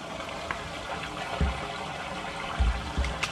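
Water trickles and splashes from the outflow of a homemade bog filter with plants and stones, a soft continuous flow with a few louder gurgling drops, fairly quiet and close.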